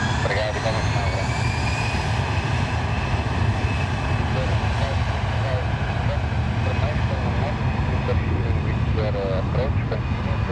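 Planes taking off and landing at Lisbon Airport, heard up close as a loud, continuous jet engine roar that holds steady throughout, with voices faintly present.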